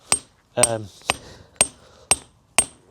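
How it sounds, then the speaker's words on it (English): Sharp metallic strikes of a lump hammer on a chisel cutting concrete, six blows in a steady rhythm, close and loud with quiet gaps between. "lump hammer and chisel is the manual way of doing it, but it's hard work"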